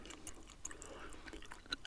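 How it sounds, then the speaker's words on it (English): Chewing gum right at the microphone: quiet, moist smacks and small clicks in an irregular rhythm, with no talking. "pop that half piece in my mouth and continue chewing"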